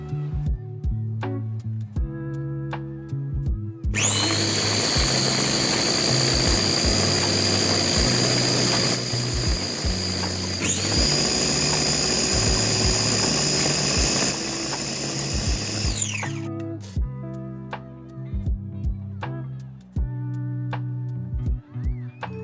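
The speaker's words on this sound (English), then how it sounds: "all you need to do again is just blend this until it's really smooth." Blender whirring loudly as it purees a vegan seafood sauce with mayo, running in two long continuous bursts with a brief dip in between, quiet background clatter before and after.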